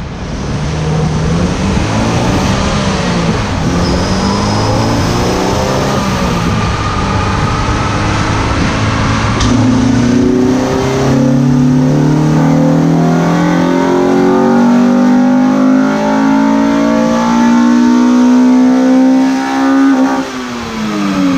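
A stock Acura Integra GSR with a B18C engine and bolt-ons, including intake manifold, throttle body, cold air intake, header and exhaust, revs on a dyno. The loud, continuous run climbs steadily in pitch through the gears, then drops off at the end.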